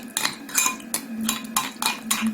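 Yogurt (dahi) is whisked in a bowl, giving quick, rhythmic clinking scrapes of a utensil against the bowl about every half second, close and clear with no voice.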